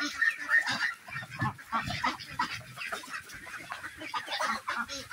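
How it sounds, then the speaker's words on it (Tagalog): Native chickens cluck and squawk repeatedly at close range, a busy flock of overlapping calls in a rainy rural yard. "Sa aking mga native na manok ay isang"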